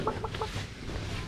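Chickens cluck in Thailand, a few quick close calls in a short burst at the start, then a steady noisy background.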